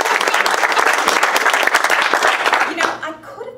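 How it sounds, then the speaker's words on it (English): Audience applause at a humorous speech contest, a dense burst of clapping from a crowd that fades out after about three seconds, with a voice heard under it. "Please give me a round of applause."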